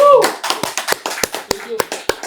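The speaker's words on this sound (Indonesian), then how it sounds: "Tepuk tangan" Short burst of scattered hand clapping on a health myths-and-facts talk show, a few sharp individual claps rather than a full crowd, mixed with brief speech and background voices.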